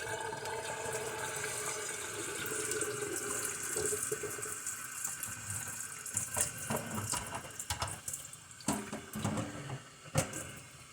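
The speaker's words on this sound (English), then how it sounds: "I'm gonna rinse that deck off" Tap water runs and splashes over a 1986 G.I. Joe Tomahawk toy helicopter's plastic deck and canopy in a sink, a continuous close rush broken by uneven spattering and clunks as the piece is moved under the stream.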